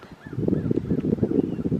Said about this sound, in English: we have some geese friends in front of us